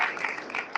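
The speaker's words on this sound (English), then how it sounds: "Let's give a round of applause." Short burst of audience applause at a Kwanzaa community gathering, dense even clapping at moderate level with no talk over it.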